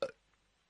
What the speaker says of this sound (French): Il a fait un rot.